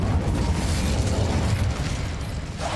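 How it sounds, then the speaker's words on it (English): A fire spell cast in the video game Hogwarts Legacy gives off a steady, dense roar of crackling and rumbling flame that holds loud for nearly three seconds, with no voices over it. "Incendio."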